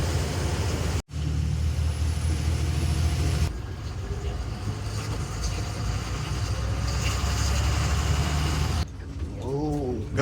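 Vehicles stand jammed on a road near a beach, giving a continuous low engine rumble and road noise from close by, with a brief rising tone near the end.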